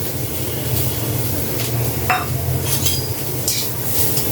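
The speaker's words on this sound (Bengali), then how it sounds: "অল্প ঘি দিয়ে তারপর এগুলাকে একটু ভেজে নিব।" Ingredients fry in a little ghee for homemade phirni, a low sizzle running under occasional clinks and scrapes of a spoon against the pan.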